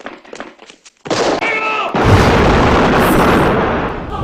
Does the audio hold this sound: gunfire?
yes